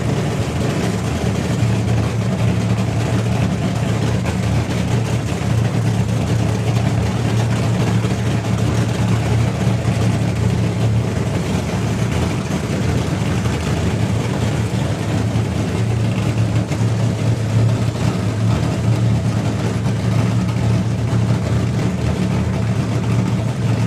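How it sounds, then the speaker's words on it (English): A Nostalgia Funny Car drag racing engine at Santa Pod Raceway sits in a steady, loud, low rumbling idle, a heavy continuous drone with no break. "You can't quite match the sound of a Nostalgia Funny Car."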